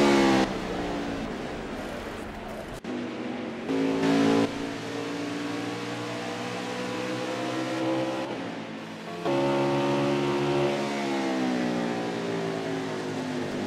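NASCAR-style stock cars in an ARL Cup race at Iowa run past on and near pit road, engines droning and revving in long, loud passes that swell and fade one after another, with no talk.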